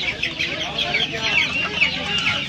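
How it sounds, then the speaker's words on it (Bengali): Silkie chicken chicks about 1.5 months old at a poultry and pet market, a dense chorus of high chirping and clucking close by, continuous and busy with market noise beneath. "এখানে দেখতে পাচ্ছেন সিল্কি মুরগির বাচ্চা আছে"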